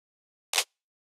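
A snare hit resampled from a recorded voice saying "snare," processed in Serum: one short, bright, noisy burst with a quick decay, heard alone.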